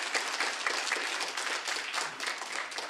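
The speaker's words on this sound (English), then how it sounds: "So let us give them a round of applause." Audience applause at a presidential press conference in Ukraine, a steady wash of many hands clapping at moderate volume with no talking.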